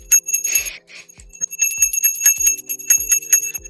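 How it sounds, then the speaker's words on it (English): Ringing bell marking the market open on a live trading stream, struck repeatedly in a steady run of bright metallic chimes with sharp attacks and lingering tones, close and fairly loud with no voices. "Go on, ring that bell, Dave."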